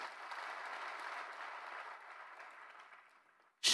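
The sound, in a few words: applause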